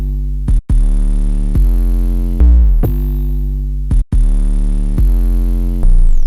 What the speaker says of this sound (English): Now we are going to add this third 808, which is more like buzzy and high end